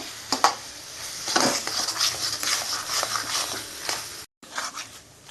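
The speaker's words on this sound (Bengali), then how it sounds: "এইভাবে আমি নাড়তে থাকবো" Egg and tomato fry being stirred in a pan Bengali style, a spatula scraping and clinking against the metal in a steady run of close strokes with faint sizzling beneath, pausing briefly near the end.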